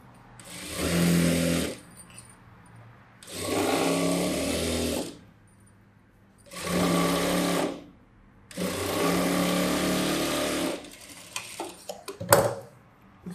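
Sewing machine stitching the back neck of a boat-neck blouse, four loud sustained whirring runs separated by pauses, then a few light clicks and clatters near the end.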